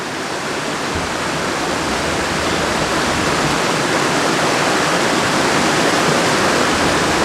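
A mountain stream in a forest rushes over big rocks, a loud, dense, unbroken roar of churning water heard up close, with no voices.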